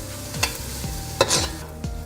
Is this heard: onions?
yes